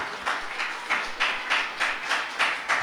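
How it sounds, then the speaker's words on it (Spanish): A church congregation clapping in rhythmic unison, a steady run of roughly even claps at moderate volume, filling the space without any talk. "Denle un aplauso al Señor"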